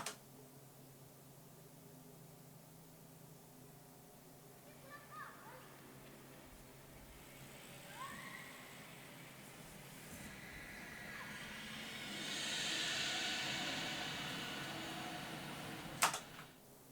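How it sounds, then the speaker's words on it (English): A household toilet flush, filtered and processed into a wind effect for a song, swells as a soft airy hiss that rises and falls and peaks late, mixed in with faint musical tones. "I sampled our toilet flushing, and I used that together with some filter automation and processing to make sort of a wind effect throughout the song"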